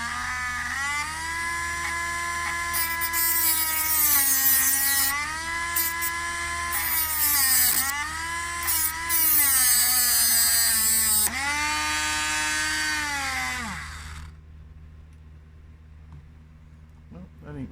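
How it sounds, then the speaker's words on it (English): A Dremel rotary tool with a very thin cutting disc grinds against a shark mesh stainless watch bracelet, a loud high whine that rises and dips in pitch as pressure changes over about fourteen seconds, then stops abruptly, leaving quiet room tone. "The disc, that little tiny cutting disc, was super thin, and the bracelet sort of curled as I was putting pressure"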